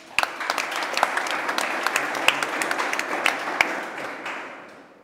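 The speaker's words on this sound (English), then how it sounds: "Big round of applause." Conference audience applauding, a dense sustained wash of many hands clapping with sharp individual claps on top, steady for several seconds before tapering off at the end.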